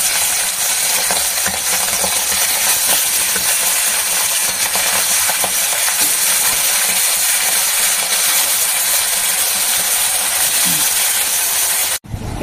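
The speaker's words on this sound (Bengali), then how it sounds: "কড়া করে ভেজে নিচ্ছি।" Pomfret fish fry hard in hot oil with a loud, dense, continuous sizzle and crackle up close, cutting off abruptly at the very end.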